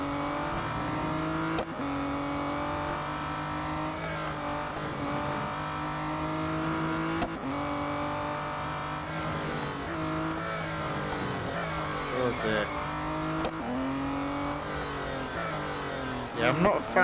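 A race car engine in the Real Racing 3 video game drones and revs steadily through gear shifts, pitch rising and dropping, with brief tire squeals as the car slides, while someone talks over it.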